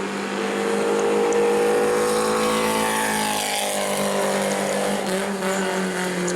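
Dan Webb's No. 44 Zebley Racing bomber race car at New Smyrna roars steadily on track during qualifying, a loud sustained engine drone with a slight pitch sweep as it passes.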